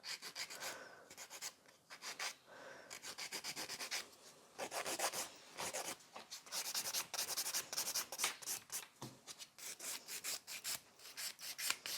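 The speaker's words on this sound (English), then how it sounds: "And again, the filing is very important." An electric e-file buffs and files fingernails during a mirror chrome ombre manicure, making close, rapid scratchy grinding strokes in short uneven bursts with brief pauses between passes.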